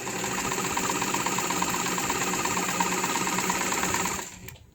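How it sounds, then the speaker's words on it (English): A Singer 237 heavy-duty sewing machine stitches through four layers of heavy denim with trim, a steady, loud, continuous mechanical whir of needle and motor that runs for about four seconds, then stops. "now I have 4 layers of that same heavy denim with a trim."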